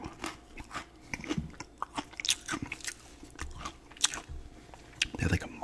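Wheat Thins crackers are bitten and chewed close to the microphone, with irregular crisp crunches scattered over several seconds and some soft speech around them.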